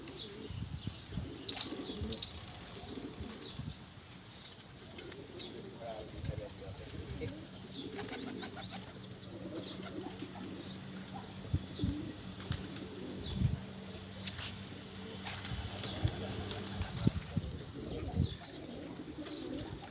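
Pigeons kept for breeding coo and flap their wings close by, with scattered chirps and sudden wingbeat bursts, while people talk over the birds throughout.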